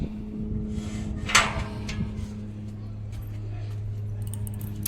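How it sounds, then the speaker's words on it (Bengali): A garden gate swings open at close range. One sharp metallic clank and rattle is followed by a faint scrape, over a low background hum, with a person speaking nearby. "দেখো গেট খুলছি"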